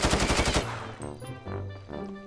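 A gun fires in GTA 5 with a rapid burst of loud close shots in quick rhythm, followed by quieter game sounds.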